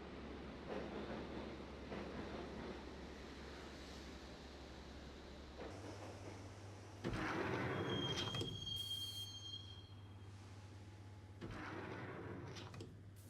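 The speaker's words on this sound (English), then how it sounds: "the train doors had already shut behind me, and I was in for the ride" Train rolling on rails in the Max Payne video game, with a steady rumble, clattering wheels and high metallic squeals of wheels on track, a continuous ride with no voices.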